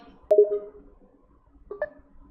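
Phone dialing tones sound as two short, separate bursts of bright electronic beeps, close and clean, with near silence between them.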